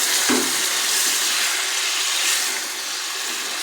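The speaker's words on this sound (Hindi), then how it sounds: "अब देखिए हमारा चिकन बिल्कुल फ्राई हो रहा है" Chicken fries in a pan for green chicken karahi, a loud, continuous close sizzle and hiss with a single clink of a utensil near the start, no talking.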